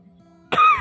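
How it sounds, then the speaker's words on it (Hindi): A single short, sharp cough bursts out after a moment of quiet, with a faint low hum underneath before it. "खांसी,"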